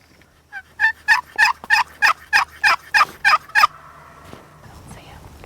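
A wild turkey gobbles in a quick run of about eleven loud, rhythmic bursts near a wheat field, then falls quiet to faint background.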